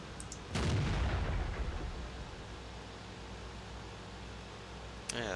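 A World of Tanks tank cannon fires a single loud shot, followed by a long rumbling decay under ambient battle noise, with a faint second sharp report near the end.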